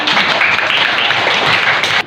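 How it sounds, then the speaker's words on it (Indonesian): A short burst of classroom clapping, loud and close, with a room full of hands clapping together before it cuts off abruptly. "Tepuk tangan."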